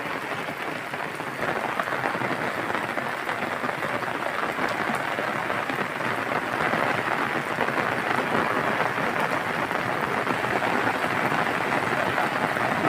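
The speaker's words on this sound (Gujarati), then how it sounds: "જો આ કપાસ અને આવી રીતે વરસાદ પડે છે ફૂલે ફૂલ" Downpour on a cotton field: thick, steady roar of heavy rain striking plants and ground, loud and unbroken for the whole stretch with no voices.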